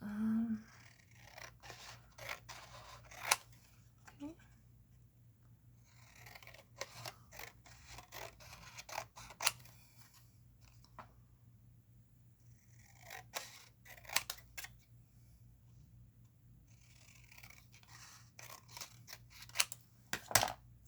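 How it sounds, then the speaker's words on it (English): Scissors snip away excess material for a miniature bookshelf in repeated sharp, close cuts that come in clusters with pauses between them, over a faint low hum. "I'm just going to go ahead and cut off all this excess I don't need"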